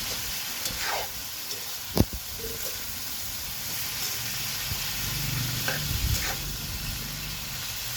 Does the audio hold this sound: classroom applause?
no